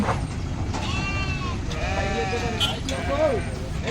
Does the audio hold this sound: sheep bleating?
yes